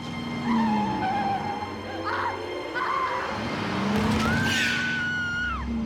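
A car swings around in a turn with tires squealing and skidding under engine noise, the long rising squeal peaking near the end, heard beneath narration in a true-crime reenactment.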